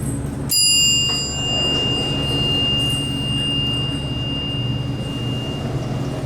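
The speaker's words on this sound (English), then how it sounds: "Let's sample the chime." A Dover traction elevator at Philip Hoffman Hall, University of Houston, Texas, sounds one clear sustained chime tone. The door opens with a rumbling clunk at the same moment, and the tone rings on alone over a low machine hum.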